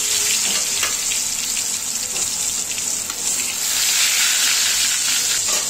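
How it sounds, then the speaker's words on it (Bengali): Pangas fish frying in a pan of hot oil, a steady, loud, close hiss and crackle of sizzling that holds unbroken throughout with slight swells. "একটা পাত্রে আমি তেল গরম বসিয়ে দিয়েছি। এখন আমি মাছগুলো ভেজে নেব।"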